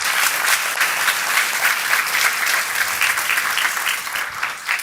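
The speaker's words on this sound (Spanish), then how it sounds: "Dele ese fuerte aplauso." A church congregation bursts into strong, sustained applause, dense and even clapping filling the room for about five seconds without pause.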